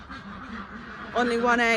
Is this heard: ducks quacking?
yes